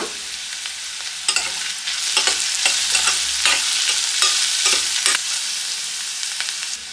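Onions fry in a pan on a home kitchen stove while a spoon stirs them, a close, steady sizzle broken by repeated scraping strokes.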